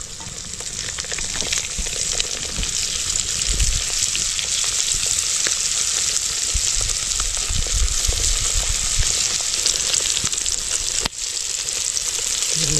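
Masala-coated quail frying in hot oil in a pan, a loud, steady crackling sizzle that runs unbroken throughout with only faint background stirring noises.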